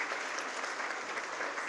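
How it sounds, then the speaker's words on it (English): A short stretch of steady applause from a conference audience honoring a philanthropy panel, even and moderately distant, with no speech on top. "One more round of applause, please, for our"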